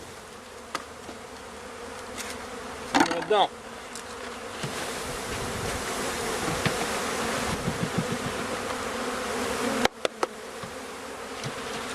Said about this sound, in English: I'm going to get ready to install these bees